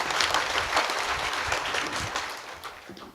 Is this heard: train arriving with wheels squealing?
no